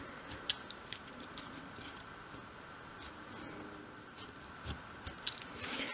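A craft knife cuts out the central piece of a dolls house arched window, giving a string of close, crisp scratchy clicks and slices at an uneven pace, with a busier burst of scraping near the end.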